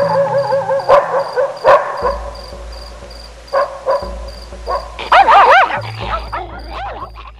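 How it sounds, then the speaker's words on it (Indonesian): A pack of dogs barks as a story sound effect, with several sharp yelps and barks in scattered bursts, some close and loud, over a low hum and high insect-like chirping. "disusul bunyi riuh suara gonggongan dari anjing-anjing itu"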